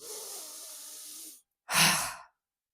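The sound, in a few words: deep breath in and release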